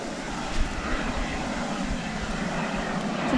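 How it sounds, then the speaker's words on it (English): Broad, steady roar of jet fighters passing overhead near Loe Bar, Cornwall, loud and continuous with wind noise, no talking. "listen to the jet fighters going over."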